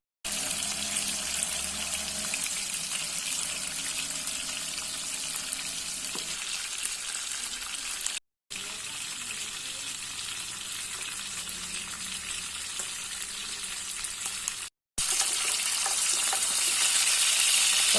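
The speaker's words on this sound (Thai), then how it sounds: "น้ำมันเดือดเดือดเลยนะคะ แล้วก็ใส่ใส่ปลาลงไป" Mackerel frying in boiling oil for a halal-style fried fish dish gives a loud, steady, close crackling sizzle that runs on continuously, broken only by two brief silent gaps.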